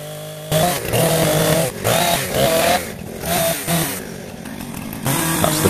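A chainsaw cuts the crown off a wind-felled ironbark tree in the bush, the engine roaring loud and close in several bursts with short dips between cuts.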